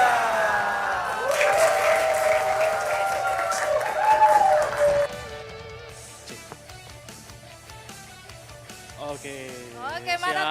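Crowd applause and cheering at the third graduation ceremony of Institut Teknologi dan Bisnis PalComTech in Palembang. It swells loudly for a few seconds with a voice over it, then fades into music.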